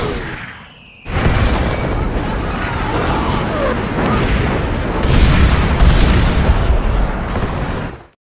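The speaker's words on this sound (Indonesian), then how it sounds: "senjata Katyusha yang merupakan senjata paling ditakuti Nazi Jerman langsung diluncurkan menuju markas Nazi Jerman" Katyusha rocket launcher salvo fired at a Nazi German headquarters, a sustained loud roaring barrage of booms and blasts that starts abruptly after a brief lull and rumbles on for several seconds before cutting off.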